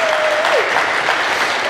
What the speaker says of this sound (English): let's just give them all a big round of applause